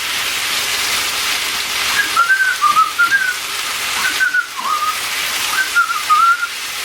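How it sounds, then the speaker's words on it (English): A person whistles a melody while cooking cumin beef, the bright warbling phrases repeating at close range over a steady hiss of sizzling in the background. "I'm whistling quite a bit today"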